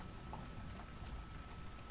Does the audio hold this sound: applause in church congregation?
no